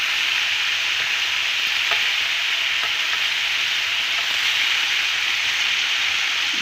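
Loud, steady sizzling and crackling of veal heart steak frying in a hot pan with garlic, close up and continuous with no talking.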